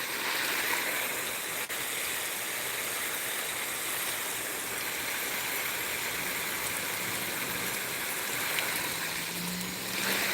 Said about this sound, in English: I'm just doing a little watering